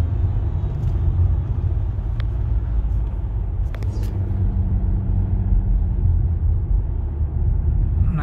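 A 2014 Nissan Maxima 3.5S accelerating in normal driving mode: steady, loud low engine and road rumble from inside the cabin, continuous throughout with a few faint clicks and no voices.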